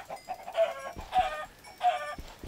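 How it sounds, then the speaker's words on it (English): Chickens in a blocky, Minecraft-style survival game give three short, evenly spaced bursts of clucking, each moderately faint and standing alone without any talk. "Chickens."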